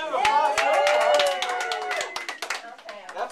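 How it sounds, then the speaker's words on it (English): An audience claps and cheers at a live radio show singing telegram, a dense patter of applause mixed with a sustained singing voice and chatter. "Give them a round of applause."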